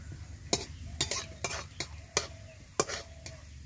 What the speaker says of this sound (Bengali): সেই জিরেটাও তেলে এইভাবে ভেজে নিব।